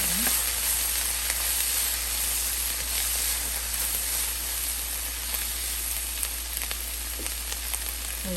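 Sweet pepper palya being stirred and mixed in a hot pan, a constant loud sizzle and hiss over a low steady hum, with a few soft scraping knocks from stirring.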